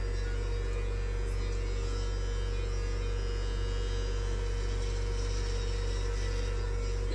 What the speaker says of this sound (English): I just want to be careful when I shave here.